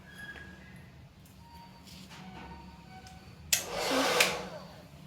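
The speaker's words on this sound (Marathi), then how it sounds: "परत कोंब खालच्या साईडने आणि पाठोपाठ ड्रायर न्यायचं आहे आपल्याला" A hair dryer on normal heat blows loudly for about a second while hair is combed and dried, with a quiet room hum before it.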